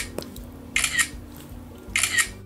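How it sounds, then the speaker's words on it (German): iPhone camera shutter sound, the fixed shutter click on phones sold in Japan, heard twice as a short crisp 'ka-sha' snap about a second apart over quiet background. "habt ihr da diesen wunderschönen Kamera-Shutter-Sound drin, dieses Kascha-Klicken"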